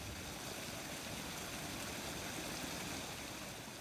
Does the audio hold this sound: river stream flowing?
yes